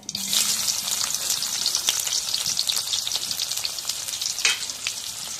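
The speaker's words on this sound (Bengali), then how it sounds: "এখন তেল দিয়ে দিই করে দিয়ে দিই" Hot oil sizzles and crackles steadily in a pan for a rainy-morning breakfast of fresh fish with green banana, a bright continuous frying hiss with scattered pops, close and fairly loud, no voices.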